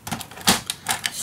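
Paper being cut for a handmade mini album in a box, three or four crisp, close snips or slices in quick succession.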